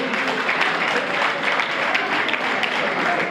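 An audience claps steadily and loudly throughout, dense continuous applause at a Miss and Mr Bright pageant ceremony held at INES Ruhengeri.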